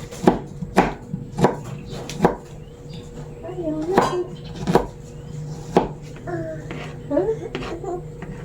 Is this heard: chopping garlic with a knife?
yes